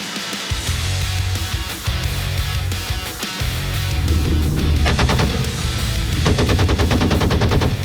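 A Browning-type machine gun aboard a warship fires loud sustained automatic bursts at close range, with short pauses between volleys.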